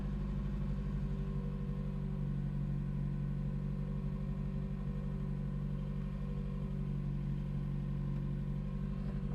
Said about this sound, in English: It's idling really good.